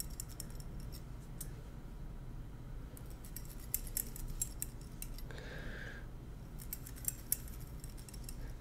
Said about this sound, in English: taking my thinning shears and moving at a diagonal. Thin it down the same way I did it on the other side.